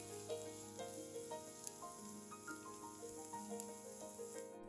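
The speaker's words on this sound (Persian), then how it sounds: "حالا هویج رو به پیاز اضافه کردم و تفت دادم تا بافتش نرم بشه" Grated carrot and onion sautéing in a pan for a quick dinner, a steady soft sizzle with faint stirring clinks, low and continuous throughout.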